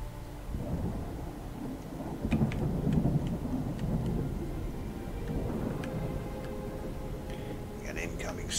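A thunderstorm with steady rain and rolling rumbles of thunder plays in the Viking strategy game Frozenheim, a continuous wash of rain with low booms swelling and fading.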